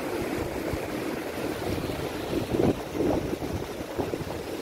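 Strong surf and gusting wind at Casapsapan Beach in Casiguran, Aurora, in rough weather: a steady, broad roar of waves with swelling crashes midway through, continuous and fairly loud, no talk.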